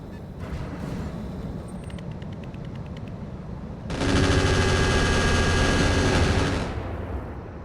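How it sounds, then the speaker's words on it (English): In the RogueTech mech game, an anti-missile system fires a rapid, dense stream of shots at incoming rockets. The loud automatic burst runs for about three seconds, following quieter battle noise with faint clicking. "Our AMS took out 6 of 13 rockets, the other 6 just missed, and we only got hit by 1"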